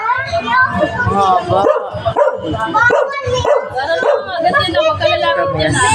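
A dog barks and yips repeatedly in quick, excited bursts close by, mixed with overlapping voices of people talking.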